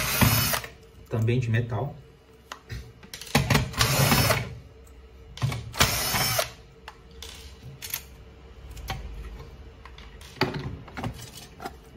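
Power screwdriver backing out metal screws that hold the LSU laser unit in a Samsung M2020W laser printer, in several short whirring bursts with pauses between, close up, with someone speaking at times.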